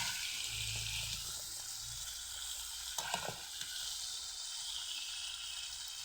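Pieces of local chicken meat sizzle steadily in hot oil, close and continuous, with stirring scrapes and a short burst of clatter midway.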